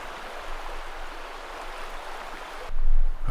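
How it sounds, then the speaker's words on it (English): The broad, shallow Metolius River flows with an even, rushing hiss; near the end a sudden louder, rumbling gust swells over the water. "Here the river is spread out. It's very broad, and much of the river at this point is quite shallow."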